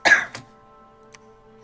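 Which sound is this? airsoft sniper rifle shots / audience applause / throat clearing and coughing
throat clearing and coughing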